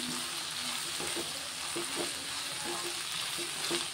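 Cauliflower curry with chili powder and green chilies fries in a pan and is stirred, giving a soft continuous sizzle with repeated scraping strokes of the spoon, close and quiet, with no talking.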